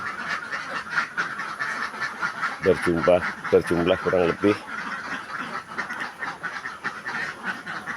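A burst of loud, close quacks in quick succession from several egg-laying ducks in a colony-cage farm in Pekanbaru, with someone talking before and after.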